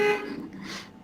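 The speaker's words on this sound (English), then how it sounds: "What was that? That fucking honk!" A short honk in an animated comedy scene, a bright tonal blare at the start that fades quickly into a lower, noisier tail.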